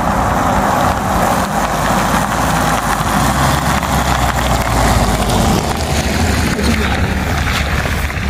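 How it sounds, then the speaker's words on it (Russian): A car engine hums steadily nearby, a continuous low rumble with wind noise throughout and no distinct pass-by swell. "Машина."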